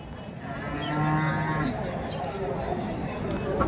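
Cattle low loudly and repeatedly at the Karimangalam livestock market in Dharmapuri district, with crowd chatter and someone talking throughout.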